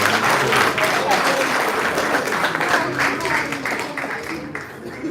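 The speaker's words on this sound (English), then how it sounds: "A round of applause for her." A crowd at a gala dinner claps steadily for a vote winner, a dense, sustained wash of applause that tapers slightly toward the end.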